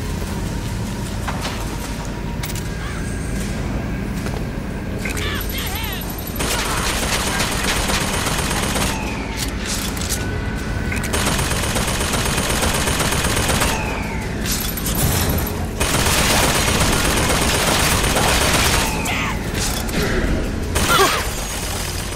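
Sustained gunfire in the video game BioShock Infinite, near and loud, with dense bursts of shots and mechanical clatter running almost without pause.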